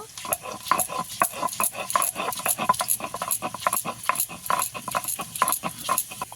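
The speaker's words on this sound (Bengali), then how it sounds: "প্রথমে আদা বেটে নেব" Fresh ginger is ground on a grinding stone in a rapid, rhythmic series of rough scraping strokes, close and steady, each stroke a short gritty burst.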